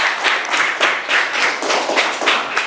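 Classroom applause after a student group presentation, with steady rhythmic hand clapping from a small group that is fairly close and moderately loud, rising and falling in waves throughout.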